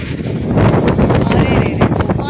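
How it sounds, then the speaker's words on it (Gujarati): Strong gusty wind in a heavy rainstorm, buffeting roar and rushing noise battering the microphone, loud and continuous with rustling bursts throughout. "અરે રે રે, તોફાની વરસાદ, પવન જ છે ભયંકર."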